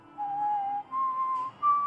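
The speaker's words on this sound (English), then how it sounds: "if tomorrow I didn't whistle the song" A person whistles a song: three clear, sustained pure notes, each a step higher than the last, close and fairly loud with no other sound.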